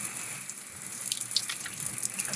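An outdoor garden shower running hot water, a steady hiss of spray with light splashy patter, fairly close and moderately quiet, no voices.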